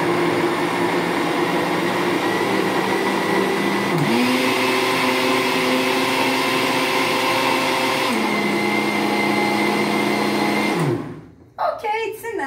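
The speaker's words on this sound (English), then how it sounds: "Let's turn on our blender just a little bit." A kitchen blender whirs loudly and steadily in a cooking class, its motor pitch stepping up partway through and then winding down and cutting off near the end.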